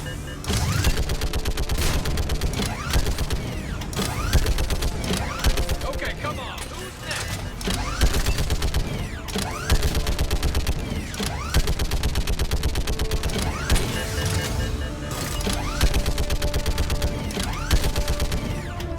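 A mounted turret in Mass Effect 3 rattles off continuous heavy automatic fire in long, close, loud bursts with brief pauses, mechanical clanks woven through and a voice occasionally talking underneath.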